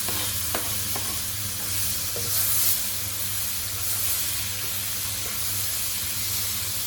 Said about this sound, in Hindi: मसाले थोड़े से हम फ्राई करेंगे, हल्के से टॉस करेंगे जस्ट